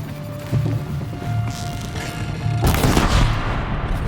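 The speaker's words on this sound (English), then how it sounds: "Oh no, he's got a machine gun." Machine gun fire in the video game Horizon Zero Dawn rattles in bursts over a game soundscape, with a louder burst of rapid shots near the end.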